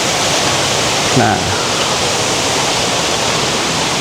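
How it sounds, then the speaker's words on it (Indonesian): A clear river stream at a pine forest eco park campsite near a waterfall rushes as a loud, steady broadband wash throughout, with a brief spoken word near the start. "Oke, biar kegambar di sini ada aliran sungai yang jernih."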